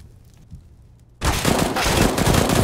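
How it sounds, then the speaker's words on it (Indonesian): Rapid automatic FAMAS rifle fire in CS:GO erupts suddenly after a quiet moment and continues as a loud, dense burst of game gunshots to the end. "kembali sapuan spray down famas dari Adrian"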